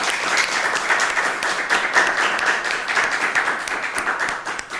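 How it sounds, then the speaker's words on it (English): A crowd applauds steadily throughout, dense clapping at a consistent loudness with no voices standing out. "Can we give them a round of applause?"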